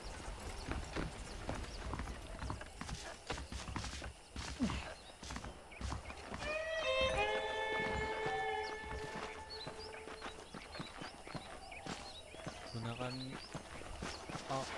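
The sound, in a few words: horse hooves clip-clopping in a video game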